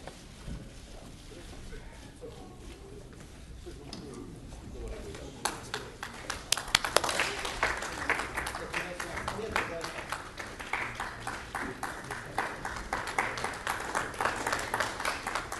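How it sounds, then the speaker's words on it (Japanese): Audience applause swells at the close of a 2012 Democratic Party of Japan leadership candidates' debate at the Japan National Press Club, a dense, steady roar of many hands that rises midway and carries on loudly after a quieter stretch. "もう一度盛大な拍手をお願いいたします"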